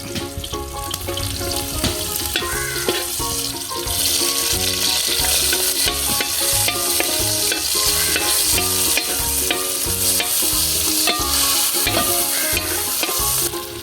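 Chopped shallots sauté in a hot pan, a steady bright sizzle under repeated stirring scrapes that keep a continuous, fairly loud rhythm throughout, with no talking.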